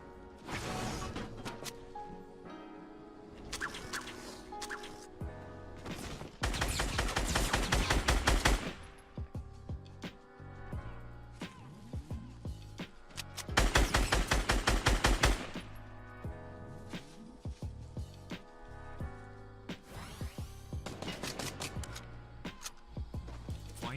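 Fortnite gunfire in a competitive match: dense automatic bursts crackle in several loud clusters, with scattered single shots and game effects between them and no voices.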